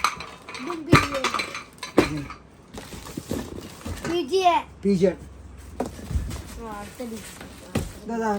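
Stainless steel pressure cookers, including a five-litre model, clank and clink as they are handled in a kitchenware shop. Sharp metallic knocks recur between people talking close by.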